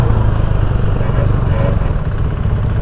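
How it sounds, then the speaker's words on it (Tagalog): A 400cc high-displacement motorcycle engine runs loud and close with a steady, throbbing low rumble, holding an even pulse throughout and faintly rising and falling in revs. "From 150cc to 400cc high displacement motorcycle or starter bike, medyo nakakapanibago kasi iba nga yung RPM nya"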